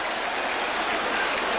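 A large crowd roars and cheers in a steady, dense wash at a night VFL football match, Melbourne versus Brisbane at the MCG in 1988, with no break in the noise.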